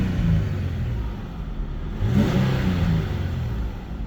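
A Nissan 350Z with 238,000 km idles and revs, a steady mid-pitched engine drone that swells briefly in the middle, close and continuous with no talking.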